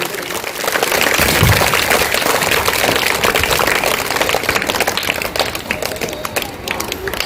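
A crowd claps steadily at a school Independence Day program, the applause swelling after a brief quiet start and staying loud and continuous to the end.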